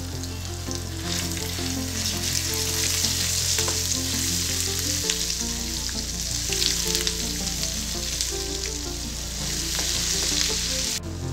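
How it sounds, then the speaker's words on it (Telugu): Ginger-garlic paste frying in the leftover oil from frying prawns, a loud, dense, continuous sizzle with crackling spatters and a steady low hum beneath, no voices. "రొయ్యలు ఫ్రై చేసుకున్న ఇదే ఆయిల్లో అల్లం వెల్లుల్లి పేస్ట్ వేసుకోవాలి।"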